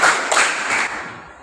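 A group of students in a classroom claps in unison in a brief series of crisp, slightly ragged claps, close by and fading at the end.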